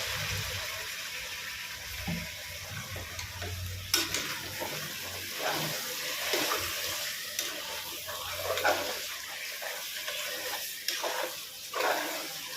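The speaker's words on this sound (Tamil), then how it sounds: "இப்போ நம்ம கறியை வந்து இப்போ போட்டுக்கலாம். இதிலே தான் நம்ம வேக விட போகிறோம்." Mutton goes into a hot pot for biryani and is stirred, giving a steady sizzle with scraping stir strokes and occasional clanks of a spoon against the pan, and no talk.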